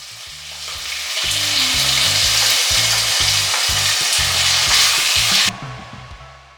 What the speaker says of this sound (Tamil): இன்னைக்கு நைட் வந்து நான் டின்னருக்கு வந்து நூடுல்ஸ் தான் பண்ணேன்.